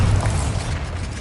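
A Bombarda blasting spell goes off in Hogwarts Legacy, a loud, dense burst of low rumbling boom with crackling mechanical texture that fills the short moment without any voices.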